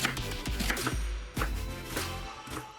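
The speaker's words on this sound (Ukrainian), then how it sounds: "Одна цибулинка середнього розміру також нарізаємо" A knife chops an onion rapidly on a cutting board, sharp wooden knocks in quick uneven bursts with a short pause midway, close and fairly loud.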